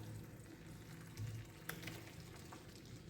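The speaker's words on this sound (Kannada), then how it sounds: "ಈಗ ಫ್ರೈ ಮಾಡ್ಕೊಂಡಿರೋ ಮೀನನ್ನ ಹಾಕ್ಕೊಳ್ಳೋಣ." Fried fish pieces go into a pan of sizzling fish masala, a soft, steady frying hiss with a few gentle clatters and stirring sounds, close and fairly quiet.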